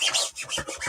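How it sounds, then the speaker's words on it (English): A squeegee or small scraper tool drags ink across a screenprint frame over a vinyl stencil, giving quick, close, raspy rubbing strokes in a rhythmic back-and-forth. "So then I'm just going to take my squeegee,"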